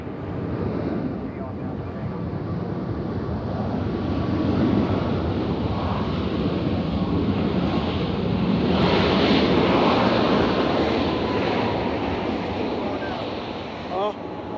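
Jet airliner landing at Nashville International Airport, a steady broad roar of engines that swells in the middle and fades near the end, heard from a distance against constant background noise.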